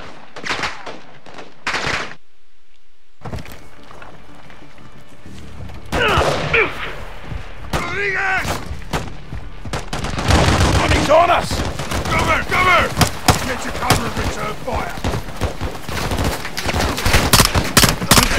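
Gunfire in the video game Call of Duty Modern Warfare 2: dense bursts of automatic rifle fire and sharp single shots crack close and loud, thickening into a sustained firefight with booms and shouted voices mixed in.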